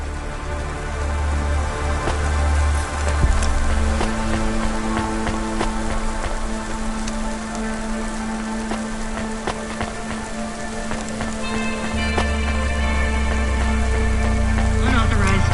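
Rain falls across the city streets in the game Cloudpunk, a dense, continuous patter with a low hum and musical tones layered over it, loud and unbroken throughout.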